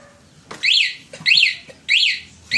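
A Honda XRM 125Fi's installed alarm sounds three loud, evenly spaced electronic warbling chirps in quick succession, each a sharp rising-and-falling trill against a quiet background.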